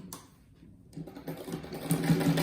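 Sewing machine stitching fabric scraps together for a patchwork rag rug, starting quiet and then a fast steady mechanical whirr that grows louder and stays close.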